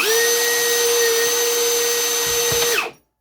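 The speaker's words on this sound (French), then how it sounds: "Ici, je me positionne, je viens légèrement tenir ma tige, je vais couper, j'appuie." A Bosch GGC 18V-12 cordless cutter slices through a threaded rod, giving a loud, steady high-pitched whine with a continuous tonal hum that holds for nearly three seconds before cutting off abruptly into silence.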